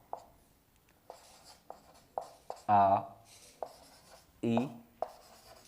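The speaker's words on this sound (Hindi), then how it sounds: "अब देखें, जैसे हम लिखते हैं आ" Chalk or pen writing letters of the Hindi alphabet during a class lesson, heard as a series of short, sharp tapping strokes spaced about half a second apart, close and moderately loud, with a teacher's voice speaking briefly between them.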